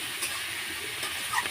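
Potatoes go into hot spiced oil with cumin powder and fry with soft, steady sizzling and faint stirring scrapes, heard up close at low volume with no voice.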